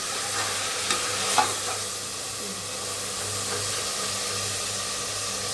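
Tomatoes and onions sautéing in a pan, a steady close sizzle with a few stirring knocks and scrapes early on, no talk.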